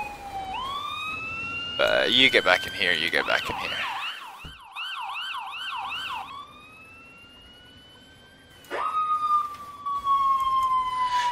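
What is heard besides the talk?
ambulance siren in a video game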